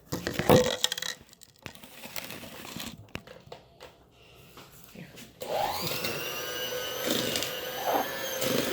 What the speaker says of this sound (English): we got our mixer. We're going to turn it on to low